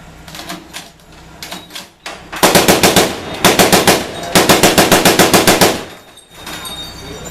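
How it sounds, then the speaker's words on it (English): A .50 caliber M2 machine gun firing rapid bursts of sharp, evenly spaced heavy shots, loud and close, with short pauses between bursts and softer reports around them. "Adopted in 1921 as an anti-tank weapon, the M50 caliber machine gun, also affectionately known as Maud Deuce"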